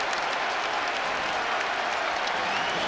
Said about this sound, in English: What a first half off the bench for Demarion Watson, and this crowd loving it